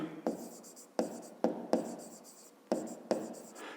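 Pen or pencil writing out an equation by hand for a fifth-grade math exercise, heard as a close series of short scratchy strokes, about eight quick bursts with brief pauses between them.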